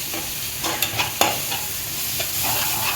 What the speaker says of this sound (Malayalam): ഇങ്ങനെ വഴറ്റാം കണ്ടോ അടുപ്പത്ത് ഉണ്ടാക്കുമ്പോൾ സൗണ്ടില്ലാതെ വഴറ്റണം